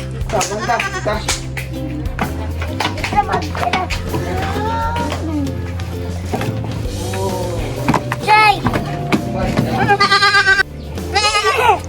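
A goat being taken to a farm bleats several times, loud, close, wavering cries scattered through the clip among handling noises and a person talking.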